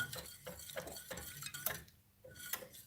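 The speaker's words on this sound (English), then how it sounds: "Here we have the milk with the pumpkin and the pumpkin spice and the cloves somewhere there. And I'm just stirring" A spoon stirs milk with pumpkin, pumpkin spice and cloves in a pot for a latte, making quiet rhythmic scrapes and light clinks against the metal, close and soft, with no voices.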